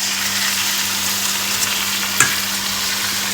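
Taro leaves (kochu shak) being stir-fried in a pan, a steady close sizzle with a soft scrape of the spoon partway through, no talking.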